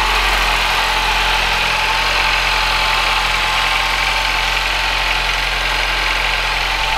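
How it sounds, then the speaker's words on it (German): Mini Cooper S R57 engine idling after a timing chain tensioner replacement, a steady, continuous close-up hum with low rumble and no audible rattle, running alone without voices. "dann lassen wir den Motor nochmal laufen"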